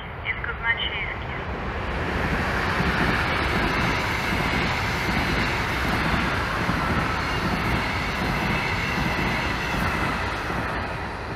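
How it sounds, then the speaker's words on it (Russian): A train rumbles past Shchekino station in a long, steady roar of wheels and machinery, with a voice faintly audible beneath the noise. "Внимание, поезд нечетный из Казначеевки"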